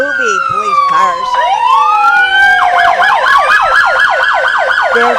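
Movie police cars from Vito Enterprises roll past in a Fourth of July parade, several loud sirens wailing and yelping over one another close by, their overlapping tones sweeping up and down against crowd noise.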